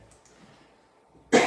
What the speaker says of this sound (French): c'est une petite toux.